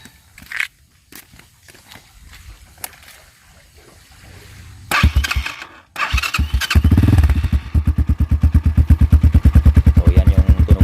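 MX250 microbike with an open pipe exhaust: a few clicks and kick attempts, then the engine catches and settles into a loud, close, rapid putter with a steady pulsing idle.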